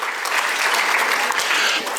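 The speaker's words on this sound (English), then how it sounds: "Give yourselves a round of applause for coming out tonight." Applause from an audience at an evening business hall of fame ceremony in Eastern Indiana, a dense steady wash of many hands clapping, loud and close, filling the whole moment without pause.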